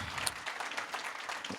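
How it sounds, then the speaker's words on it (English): An audience at a closing keynote event applauds, a soft, somewhat distant patter of many hands clapping together at low volume for a short stretch. "Can everybody give Lindsay a big round of applause?"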